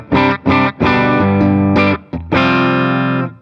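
An electric guitar played through a BIAS Mini amp with a BH7 preamp tube: loud, distorted chords and single notes struck in short bursts, then a long sustained chord ringing out.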